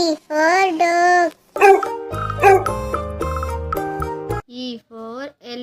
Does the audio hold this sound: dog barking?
yes